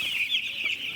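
Nine-day-old chickens on a poultry farm cluck and peep close by in a brief, busy burst of high chirping.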